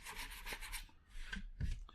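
Wooden acoustic guitar body edges sanded by hand from a DIY kit build, giving soft rasping rub strokes in a few uneven bursts, close and quiet with no talk.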